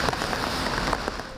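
Heavy rain during a Hong Kong rainstorm pours in a dense, continuous hiss with scattered sharper drops, close and loud.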